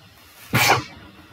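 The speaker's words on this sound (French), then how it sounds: "je vais éternuer, attention." A single sharp sneeze bursts out loudly, preceded by a brief intake of breath, then quiet.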